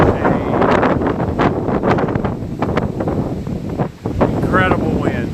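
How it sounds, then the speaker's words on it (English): Strong wind on a high mountain ridge buffets the microphone in a continuous loud roar with gusty surges throughout, a person speaking underneath it. "incredible wind. Just an incredible wind. I can't hardly stand up here."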